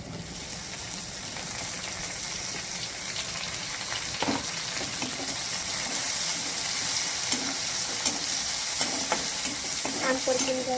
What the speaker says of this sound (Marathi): आपण आता यामध्ये टोमॅटो घालूया